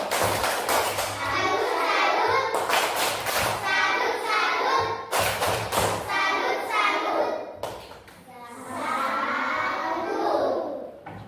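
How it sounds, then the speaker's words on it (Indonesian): Third-grade elementary pupils doing a patterned salute clap for a group in a classroom: rhythmic bursts of many small hands clapping with thuds, mixed with children chanting along throughout. "tepuk salut untuk kelompok 1"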